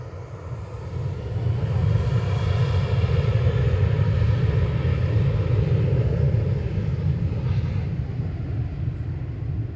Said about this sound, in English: KLM off to Amsterdam, 737-800, PHBXG.